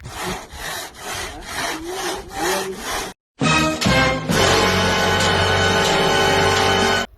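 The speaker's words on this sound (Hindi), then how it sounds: "दीवार काटना था ग्राइंडर के साथ और इन्होंने साइकिल का चेन ले लिया भाई। चेन के साथ ही गरागर काटते हुए जा रहा है भाई।" A bicycle chain drawn back and forth to cut through a wall in place of a grinder, giving loud, steady rasping strokes in a regular rhythm, then a brief pause before a denser, continuous grinding scrape.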